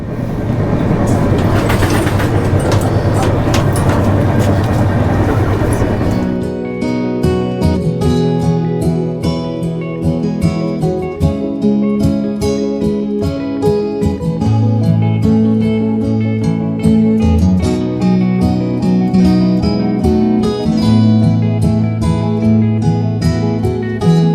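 Loud rumbling rush inside a double-decker express train running from Bengaluru to Chennai, steady for the first few seconds before music takes over and masks the carriage noise for the rest.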